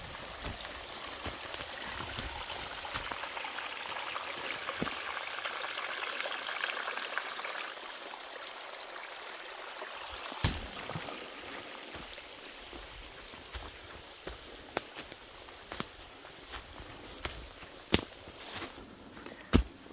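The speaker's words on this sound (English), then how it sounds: "There are lots of little springs and mountain streams." Small mountain stream near springs, a steady soft trickle and babble of water at moderate distance, with occasional sharper drips and splashes standing out over the continuous flow.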